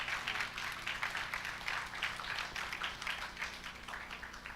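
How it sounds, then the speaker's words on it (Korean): Church congregation clapping for a young singer who joined the praise team, a moderate, slightly uneven patter of many hands heard at a steady level. "It was really good to see that Sophia 박수 한번 해주세요."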